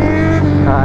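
Kawasaki Z900 motorcycle engine revving hard while overtaking on a road: a loud, close, steady harmonic drone for under a second, with voices mixed in over it.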